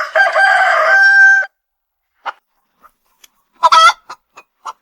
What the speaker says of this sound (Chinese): 这是黑麦城最后一只公鸡